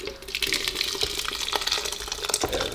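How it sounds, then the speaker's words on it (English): Orange juice and spice mixture is poured into a blender, giving close, continuous splashing and gurgling with small clinks, with no talk over it. "I'm gonna pour this into my blender."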